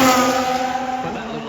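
Onboard Formula One car at speed, a loud steady engine whine that drops slightly as the floor scrapes and thumps over a kerb, heard close and continuous.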